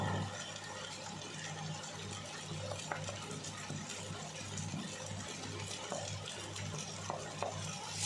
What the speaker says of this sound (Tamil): எல்லாத்தையும் சேர்த்து நல்லா மிக்ஸ் பண்ணிக்கலாம்.